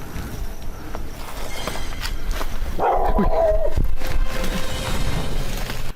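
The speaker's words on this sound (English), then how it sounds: "The team is startled back by a dog barking" A dog barks close by inside a derelict building, a short burst of loud barks in the middle amid shuffling footsteps and voices.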